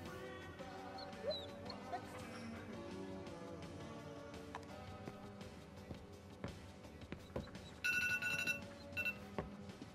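A dog barks, yips and whimpers in Marvel's Guardians of the Galaxy, the short calls scattered over a busy bed of game music and ambience, with a bright chiming tone near the end.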